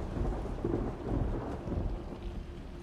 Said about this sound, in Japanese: 雷ね。